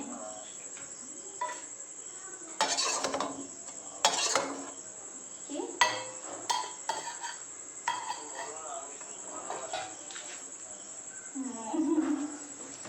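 A wok and metal utensils are handled in a home kitchen, giving several sharp clanks and scrapes spread across the stretch over a constant background insect chirr, with no speech.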